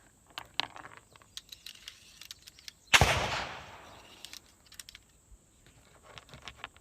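A single sharp gunshot from another shooter at an outdoor gun range in Nebraska rings out partway through, decaying over about a second, amid scattered faint clicks and handling noises.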